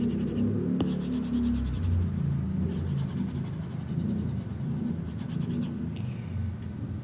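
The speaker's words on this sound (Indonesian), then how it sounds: "Ini kita hapus dulu." Board eraser wiping chalk or marker writing off a classroom board during an Indonesian eighth-grade geometry lesson, a steady scratchy rubbing that runs continuously for several seconds at close range with no talking over it.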